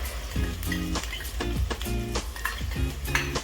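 Paneer sautéing in a pan for paneer chilli gives a steady close sizzle, with spoon scrapes and stirring clatter recurring about every second.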